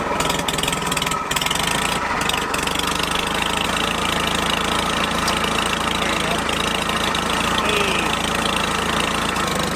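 An old abandoned tractor engine runs after being started, a loud close knocking idle with a steady mechanical chug throughout, with a voice in the background.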